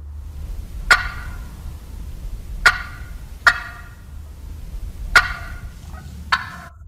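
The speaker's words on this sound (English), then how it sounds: "These little sounds called clucks." Wild turkeys cluck in sharp, single notes, five of them spaced irregularly over a low, steady background.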